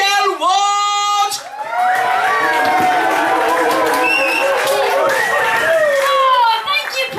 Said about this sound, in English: cheering, clapping, and any other fucking barnyard animal noise you want to make